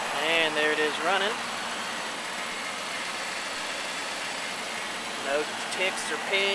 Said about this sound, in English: And there it is running.